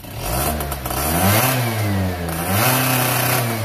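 An MBK Booster moped with a Doppler S3R exhaust and a broken pipe, running rich, revs hard close by: a loud, buzzing two-stroke whine climbs, dips briefly, then surges up again and holds high.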